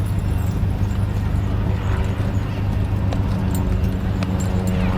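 Heavy horses walk at an outdoor steam and country fair, hooves clip-clopping in a steady uneven rhythm under loud engine rumble and crowd noise.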